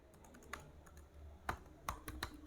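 Quick typing on a computer keyboard, a short burst of crisp key clicks at an uneven pace, close and quiet with a few louder presses.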